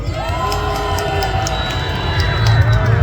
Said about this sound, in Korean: 우선 탄핵 발의 동참을 밝혀주신 의원들께 큰 박수 부탁드리겠습니다.